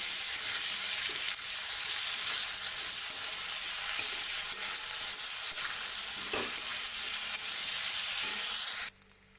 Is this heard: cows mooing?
no